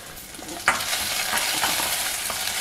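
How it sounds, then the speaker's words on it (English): Hing, green chillies and curry leaves stir-fried in a pan for sundal prasadam, a steady soft sizzle with a sharp crackle and spatter near the start and a few light stirring scrapes. "Stir fry them, then add the cooked groundnut."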